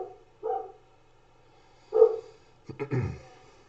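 A dog barks three times: two single woofs spaced apart, then a quick doubled bark, clear and fairly close in a quiet room.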